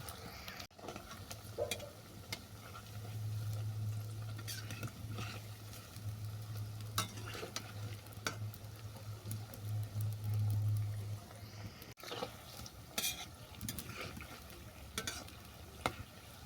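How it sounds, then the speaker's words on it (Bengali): Minced-meat and roasted-eggplant pakoras deep-frying in hot oil, a steady close sizzle and bubbling throughout with a low droning hum underneath and occasional clicks of stirring, no talking. "তেল গরম হয়ে গেছে। এরপর পকোড়াগুলো আমি ভেজে নেব।"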